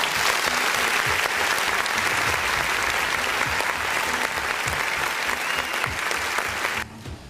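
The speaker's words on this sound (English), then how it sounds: "A round of applause," Loud, steady audience applause at a Miss Bachelorette South Africa 2025 finale, continuous dense clapping filling the room for several seconds before dropping off sharply near the end.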